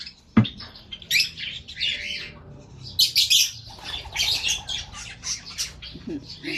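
Pet pigeons chirp and squawk close by, with a sharp wing flap at the start and busy bird calls continuing throughout.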